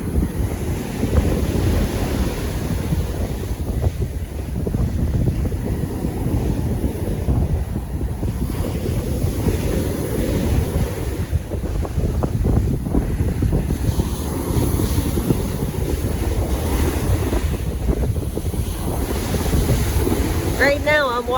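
Strong wind buffets the microphone over crashing ocean surf on a Roatan beach on a blustery day, a steady loud roar of waves and gusts throughout with no talking.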